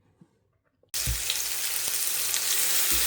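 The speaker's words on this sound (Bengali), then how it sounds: "এখানে পেঁয়াজটা ভাজা নিচ্ছি" Onions hit a hot pan and burst into loud, steady sizzling frying that continues strongly after a quiet start with a few faint clicks.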